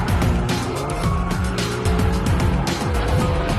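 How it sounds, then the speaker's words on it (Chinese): Race cars, a Megane RS and a Lynk & Co 03+, charge fast down a downhill curve, their engines roaring loud and close with repeated rising and falling pitch sweeps as they pass in a tight pack. "几辆车咬得非常紧，高速下坡弯，并没有人想要冒险超车。"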